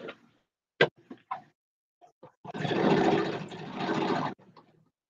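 Sewing machine stitching quilt pieces together: a couple of short bursts of rapid whirring stitching, the longest lasting about two seconds, with small clicks and handling knocks before it, close and fairly loud.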